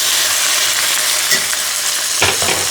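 Ground turkey sausage sears in hot avocado oil in a pan, a loud, close, steady sizzle with a couple of brief stirring knocks near the end.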